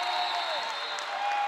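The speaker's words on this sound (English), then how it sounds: "this Laney crowd is in full effect" A basketball crowd cheers loudly in a gym during a girls' high school game, Laney of Augusta against Morgan County, with a steady roar and applause that last throughout.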